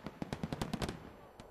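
Fireworks sound effect in an educational piece: a rapid string of about ten sharp popping bursts within a second, then a lone final pop, faint and somewhat distant with no voices.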